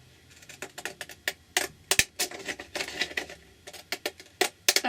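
Scissors snip through paper while a faux postage stamp is cut out, giving a run of sharp, close crisp clicks and crunches in uneven bursts with short pauses, with no talking.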